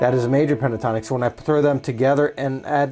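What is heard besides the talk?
None of the usual background noises is heard.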